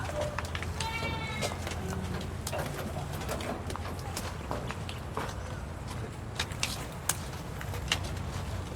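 Goats on a farm bleat now and then through a busy mix of bird calls, footsteps and rustling. The cries come in short wavering bursts, moderately close, with a faint voice in the background.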